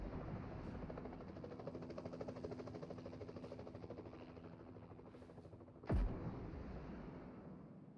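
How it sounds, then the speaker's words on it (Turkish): A helicopter in PUBG Mobile drones steadily throughout, a continuous rotor hum with a rhythmic beat, moderately loud and unbroken, with a brief sharp thump near the end. "Helikopter geziyor."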